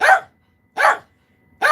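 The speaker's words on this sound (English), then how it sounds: "The barking dog is going to be in the video at the end, too." A dog barks three times, each a short, sharp, close bark separated by clear silence of under a second.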